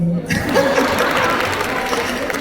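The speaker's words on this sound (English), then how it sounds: "Clap for me." Audience applause in a conference hall, a loud, dense wash of clapping from a large crowd with light laughter mixed in, sustained throughout.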